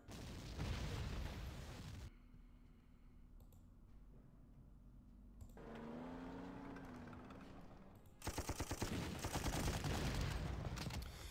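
Gunfire from units opening fire in the Panzer Corps war game: loud bursts of rapid shots at the start and end, with a rumbling, mechanical stretch in between, and no talking.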